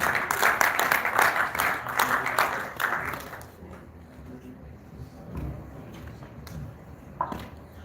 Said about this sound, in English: Please a round of applause for all of our presenters